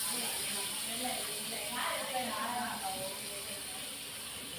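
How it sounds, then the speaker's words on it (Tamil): Butter hits a hot kadai while making paneer butter masala, giving a soft continuous sizzle and hiss at moderate level under a woman's speech. "இப்போ நான் வந்து கொஞ்சம் பட்டர் போட்டுக்கிறேன்."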